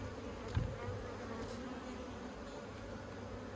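Honey bees buzzing around an open top bar hive, a faint, steady insect hum with a brief soft knock early on, no voices.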